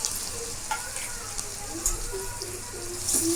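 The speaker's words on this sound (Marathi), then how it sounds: "इथे मी थोडीशी उडदाची डाळ भाजून घेते" Urad dal roasting in hot oil in a pan, with a soft, steady close sizzle and light crackling and stirring scrapes throughout.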